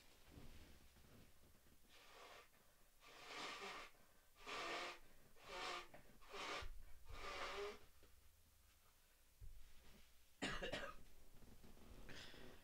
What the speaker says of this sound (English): This episode's gonna be me blowing my nose.